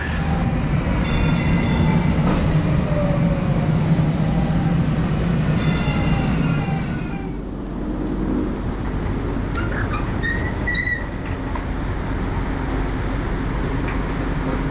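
A DART light rail train in Dallas rumbles steadily nearby with metallic screeches and clatter, then eases into a quieter hum with occasional high squeals.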